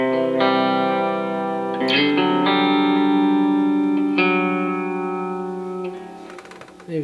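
Electric guitar played through a mini pedalboard with reverb on an analog setting: sustained, ringing chords and notes with a distorted, chorused shimmer and a long reverb tail that fades toward the end.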